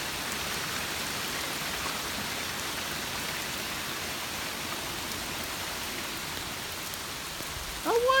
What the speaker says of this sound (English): We still got us a good rain, probably an hour later. Wonderful rain.